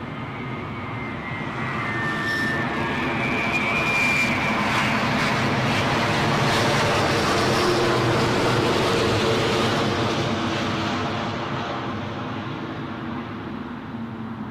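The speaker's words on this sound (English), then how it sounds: "next in we've got another Delta 330, this one from JFK" A Delta Airbus A330 arriving from JFK at London Heathrow, a broad jet engine roar that swells from a distance, peaks loud overhead mid-way and slowly fades, with no talk over it.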